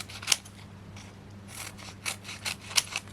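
Scissors snip through craft pads in a series of short, crisp cuts, close and fairly quiet over a low steady hum, with a few louder clicks as the blades close.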